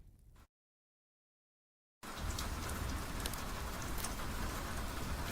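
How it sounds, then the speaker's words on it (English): Steady rain falling outside an old library, a dense, even hiss that starts after a brief pause and continues unbroken at moderate volume. "where the rain never truly stops"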